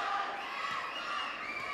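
A boxing crowd at a Raul Carrillo versus Cesar Holguin fight chants for El Chino, a dense, steady roar of many voices filling the arena without a break.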